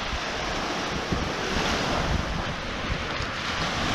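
Waves wash against the Lake Michigan shore at its southernmost point, a continuous loud surf roar mixed with wind buffeting the microphone, without any speech.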